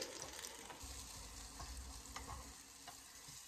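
Lentil fritters (bora) frying in oil, a steady crackling sizzle with occasional sharper pops and a brief stirring or turning scrape, close and continuous with no voices.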